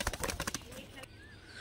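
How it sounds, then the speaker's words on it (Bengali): A female pigeon in a loft, with a quick burst of wing flaps and rustling followed by soft, faint calls, quiet and close. "এটা মাদা পায়রা বন্ধুরা"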